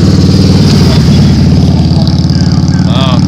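A car with a green gold-metal-flake paint job rolls past on a road by a wooded property line, its steady engine rumble loud and close throughout, with music playing from it and a brief voice near the end.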